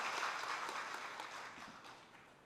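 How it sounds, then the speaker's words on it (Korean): A church congregation at a Korean Sunday worship service claps together in a steady, soft patter of applause that slowly tapers off, heard fairly distantly. "감사와 영광의 박수 올려드리겠습니다"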